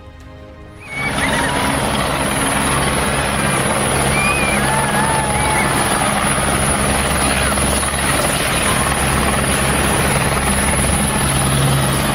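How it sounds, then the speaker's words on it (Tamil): A loud, steady helicopter drone that starts abruptly and holds for a long stretch, with faint voices barely audible underneath; a helicopter making an emergency landing on a school ground after a sudden fault. "பள்ளி மைதானத்தில் அவசரமாக தரையிறங்கிய ஹெலிகாப்டர்"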